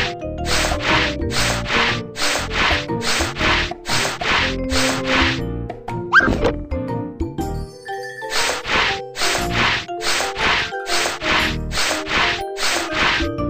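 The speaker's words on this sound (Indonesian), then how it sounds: "Gunakan amplas untuk menghaluskan kayu yang kasar." Rhythmic rasping strokes of sandpaper on wood in a children's video game, about eight quick rubs in a row, a pause with chimes, then another run of even strokes.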